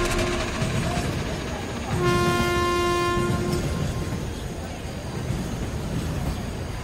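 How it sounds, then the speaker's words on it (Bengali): A train horn sounds for a couple of seconds over the rumble and clatter of a train rolling in to a platform, steady and fairly close. "ট্রেনটা যখন প্ল্যাটফর্ম ছুঁল"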